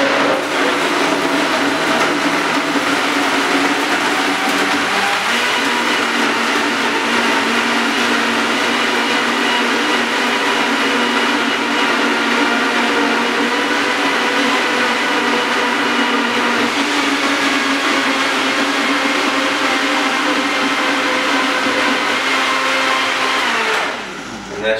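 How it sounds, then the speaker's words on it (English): A kitchen blender whips smoothie ingredients for a pre-workout breakfast, running as a loud, steady whirring roar for nearly twenty-five seconds before cutting off at the end. "Everything is in the blender."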